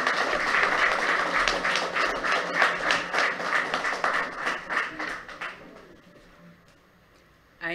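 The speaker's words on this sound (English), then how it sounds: "let's give a resounding round of applause to all the recipients of the 2018 Queen's" An audience at a Queen's Birthday investiture ceremony applauds the 2018 honours recipients. The clapping is steady and fairly faint, then fades to near silence before a sudden sound at the very end.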